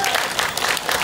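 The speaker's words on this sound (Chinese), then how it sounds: "我们是不是给陈明健议员一个热烈的掌声？" Warm applause from an audience at an indigenous harvest festival in Keelung, a steady dense clatter of clapping throughout the short moment.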